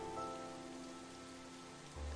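Steady rain ambience from the Psychedelica of the Black Butterfly video game, a continuous wash of falling rain under a low droning music bed, with a brief louder low-end swell at the very end; no voices.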